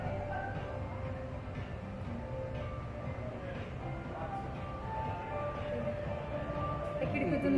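A Pune Metro train running, with a steady close rumble and whir of the carriage that swells slightly toward the end, while someone talks over it.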